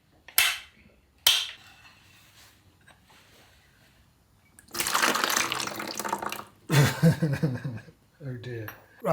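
Water splashing and trickling out of a Land Rover Series gearbox as the drain plug comes out, in bursts of pouring and dribbling against a quiet workshop background, with brief knocks beforehand.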